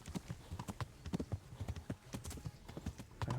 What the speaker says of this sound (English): My horse is getting tired.